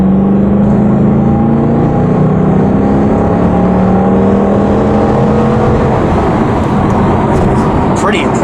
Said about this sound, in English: The engine's got a wonderful growl when you get into the gas pedal.